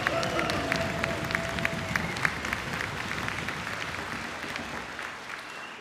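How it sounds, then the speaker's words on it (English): Crowd applause at the Sealaska Heritage Celebration 2004 honouring a 93-year-old elder, steady dense clapping from a large audience across the whole stretch, with a few scattered voices and faint cheers mixed in. "I'd like for everybody to give Daisy Jones a huge round of applause."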